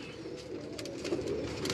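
Ferozpuri pigeons coo softly on a Karachi rooftop, a low murmuring burble that keeps going under faint background noise, with a few brighter chirpy sounds over it.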